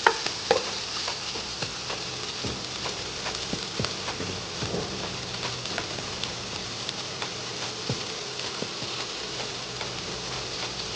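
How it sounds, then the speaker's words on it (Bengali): Onions frying in oil in a pan, a steady soft sizzle with faint crackles and occasional light stirring clicks, quiet and continuous throughout. "পেঁয়াজটা দিয়ে দিয়েছি, ভেজে নিচ্ছি।"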